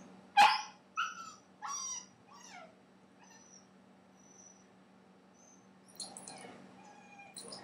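A dog barking and yipping while jumping to escape, several sharp close barks in quick succession, then quieter whimpers and faint scuffling against a low steady hum.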